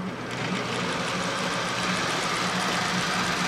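A gear-cutting machine works on a small brass helical gear with a 10-degree helix, making a continuous, fairly loud mechanical drone with faint rhythmic ticking from the cutter running slowly through the metal.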